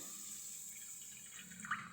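Water poured onto sugar in a pot to make syrup, a faint, soft trickling pour with a small splash near the end, quiet and close.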